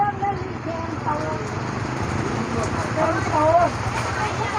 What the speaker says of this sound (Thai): บ่ายสามพอดีบ่ายสามตอนนี้ฝนเริ่มเบา